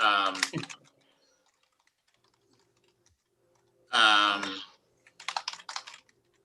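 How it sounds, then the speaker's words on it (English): At a city council work session, a short flurry of computer keyboard keystrokes clatters briefly, following voices talking in the room. "see if I can type, which has been difficult all night"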